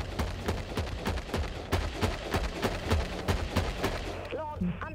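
A stasis warhead artillery strike in Dreadnought rumbles as a rapid barrage of booming impacts and blasts, heavy and continuous for several seconds; a voice briefly cuts in near the end.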